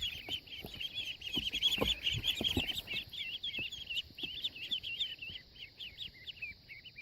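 Young ducklings peep in a rapid, continuous stream of high chirps at close range, with a few soft knocks and rustles beneath.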